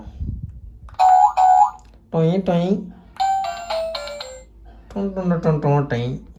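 Toy iPhone plays a bright electronic startup melody when switched on, a series of loud beeping, chiming tone phrases with brief pauses between them, close and clear with no talk.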